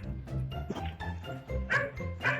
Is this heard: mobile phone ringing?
no